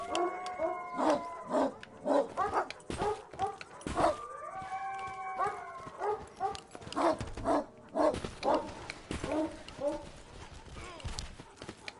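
Dogs bark and howl in a VR shooter game, tonal yelps and howls recurring throughout alongside a talking player.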